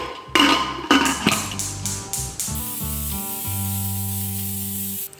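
Bursts of hissing steam give way to a sustained, loud tonal whistle of a pressure cooker cooking dal, close by, with no talking.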